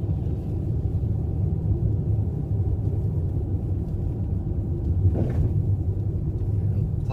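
A 2014 Jeep Cherokee 4x4 drives through a snow pile in winter, a steady close low rumble of engine and tyres with a brief swell midway and no talk.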